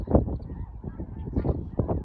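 A flock of snow geese honks overhead during a pass-shooting hunt, with overlapping goose calls pulsing in irregular bursts and swelling near the start and end.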